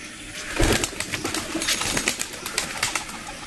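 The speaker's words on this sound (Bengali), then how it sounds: "তো বন্ধুরা 7 পিস, টোটাল 7 পিস আমি পায়রা উড়াচ্ছি।" Seven pigeons released to fly outdoors during winter training, with bursts of wing flapping and soft coos spread across a few seconds, fairly close, no talking.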